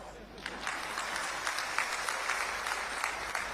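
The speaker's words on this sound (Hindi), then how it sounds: "इसलिए पुरुषों से मेरा निवेदन है कि ताली बजाओ" A rally crowd claps steadily in scattered applause, fairly faint and distant, while a speaker's voice continues over it.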